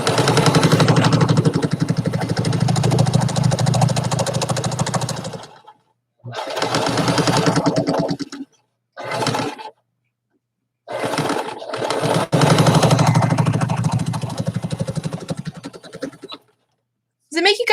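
A sewing machine driven by a foot pedal runs loud and close in several bursts, with stops and starts between runs, and speech is likely present in parts.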